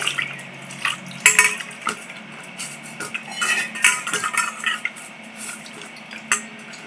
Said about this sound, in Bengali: আমটা এখন আমি ভালো করে ধুয়ে নেব